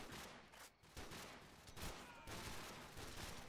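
Rapid gunfire in Call of Duty 4: Modern Warfare, repeated bursts of shots cracking one after another across a few seconds, loud and continuous with brief gaps, no voices.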